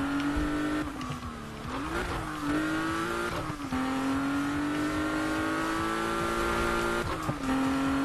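A race car in Need for Speed on PC, an RWB-style Porsche, drones with a steady high engine whine that dips and climbs through gear changes, with faint tyre noise; loud and continuous, no talk.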